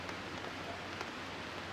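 Light rain falls steadily on a camping tarp over a hammock, making a soft, even patter that stays faint and continuous throughout, with no voices.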